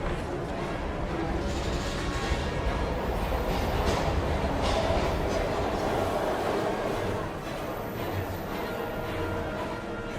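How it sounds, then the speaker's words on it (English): Train noise in the Heavy Rain video game forms a dense, continuous rumble and rattle of rail cars at steady loudness, with a faint muffled voice now and then beneath it. "We've got to get on that train, Ethan."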